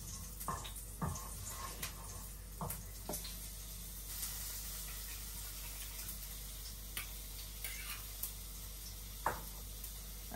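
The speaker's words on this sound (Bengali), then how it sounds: "জিরার ফোড়ন আর তেজপাতা দিয়ে দিলাম।" Cumin seeds and a bay leaf crackle in hot oil for a Bengali curry, a faint steady sizzle broken by small sharp pops and ticks scattered across the whole stretch, with no voices.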